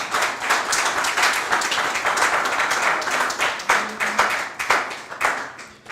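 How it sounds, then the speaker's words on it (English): A seminar audience of electoral officers claps for a presenter, a dense round of hand-clapping that holds steady at close range and then thins slightly into scattered, more distinct claps toward the end. "Please put your hands together for him."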